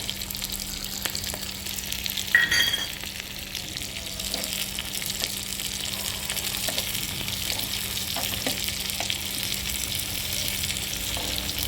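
Garlic and cumin roasting in a pan, a soft steady sizzle that runs throughout with a brief louder crackle early on, close and without talk.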